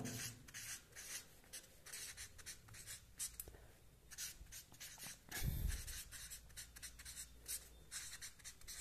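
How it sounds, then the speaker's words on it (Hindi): Pen scratching on paper fills the whole stretch with quick, close strokes of handwriting and short pauses between them. "देखिएगा यहां लिख देता हूं"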